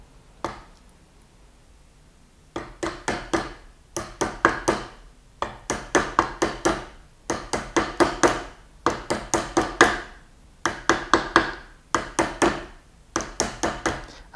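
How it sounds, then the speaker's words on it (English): Metal bangle being shaped with a hammer on anticlastic forming stakes, struck in repeated close bursts of sharp ringing taps with brief pauses between runs, loud and near with no talking. "Again, I'm hammering on my line."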